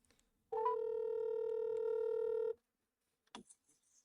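A telephone gives a steady two-second dial tone, falls briefly silent, then a short burst of dialing tones sounds near the end, clear and close with no talking.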